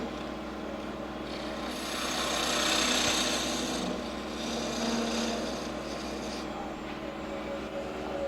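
A skew chisel makes a paring cut on wood spinning on a lathe, giving a steady rasping hiss over the motor's hum. The hiss swells and fades as the tool passes along the wood.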